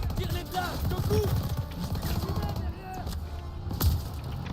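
Scattered gunshots crack out in a Call of Duty WWII battle in Marigny, a few sharp reports amid battlefield clatter, with a player talking over them.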